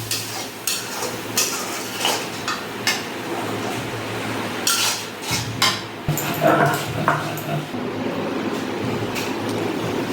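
A spoon stirs and scrapes a Bengali egg and poppy seed paste (dim posto) in a pan on the stove. The scrapes and clinks come in irregular bursts over a low kitchen hum.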